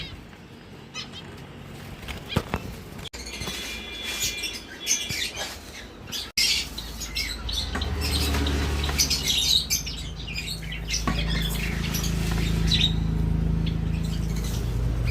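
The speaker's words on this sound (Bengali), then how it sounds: "জাভা, এই বদ্রি পাখি, আর অল্প কয়েকটা ফিঞ্চ রয়েছে, জেব্রা ফিঞ্চ" An aviary of Java sparrows, budgerigars and zebra finches chirps and squawks continuously, many overlapping birds, with a low rumbling noise growing underneath in the second half.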